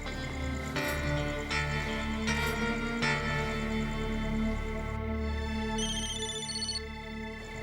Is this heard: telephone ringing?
yes